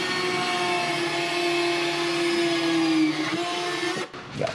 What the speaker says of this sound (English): Now we have to drill the 3/8 inch holes in the front for our mounting bolts